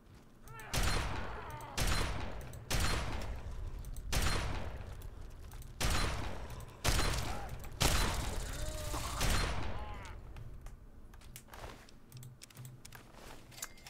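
Shotgun blasts in Fallout 3, around seven loud, sharp reports spaced roughly a second apart, each with a short decaying tail, followed by quieter fainter shots toward the end.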